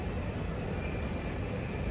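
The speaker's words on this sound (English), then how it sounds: "I just love watching planes." Steady, broad roar of an airplane engine near an airport, a continuous even rumble filling the whole stretch without breaks or talk.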